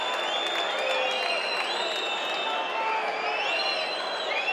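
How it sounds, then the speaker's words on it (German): Football fans in a stadium during a Energie Cottbus versus VfB Stuttgart II match give sarcastic applause, a continuous distant wash of clapping and crowd noise with whistles and voices above it. "Die FCE-Fans können sich sarkastischen Applaus nicht verkneifen als Ersatz für die fehlenden Auswärtsfans."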